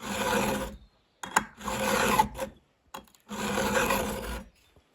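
A chainsaw chain is filed with a homemade sharpening tool in three long rasping strokes, close and clear, with short pauses and small clicks between strokes.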